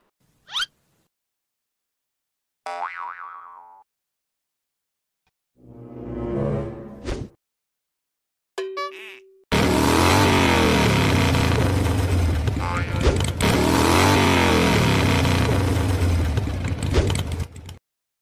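Comedy-skit sound effect of a car starting and driving off, a sudden loud sustained engine roar after short bursts of vocal sounds, running steady for about eight seconds to the end.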